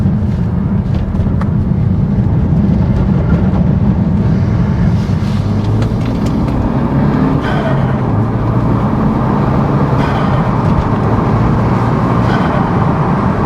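A Renault Megane RS250 hot hatch is driven hard, its engine droning loud and continuous inside the cabin with road and tyre roar underneath, holding steady throughout without speech.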